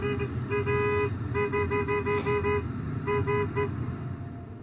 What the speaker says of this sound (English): other motorists can be heard honking their horns at him to move his vehicle out of the way